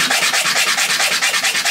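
Sandpaper rubs back and forth over a piece of beech wood, a loud, close rasping stroke repeating in a quick, even rhythm with no voices.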